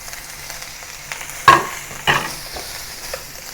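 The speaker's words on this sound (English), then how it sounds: "Now return the blanched asparagus to the pan to mix together with the ground beef." Blanched asparagus and ground beef are stir-fried together in a pan for a spicy Sichuan-style dish, with a low steady sizzle broken by two distinct scraping stir strokes.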